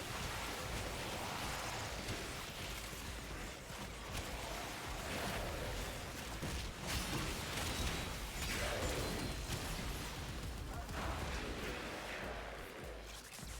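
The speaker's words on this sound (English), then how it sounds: "Now we just have explosive rain in the middle as well." Explosive rain effect in a video game, a dense continuous rushing patter like heavy rainfall with faint rumbling bursts, steady and soft throughout.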